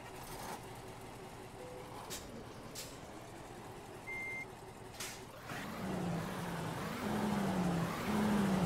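Ural NEXT 2015 truck engine from a Euro Truck Simulator 2 mod (game version 1.40), idling steadily with brief beeps and hissing bursts, then rising to a louder, deeper rev in the second half.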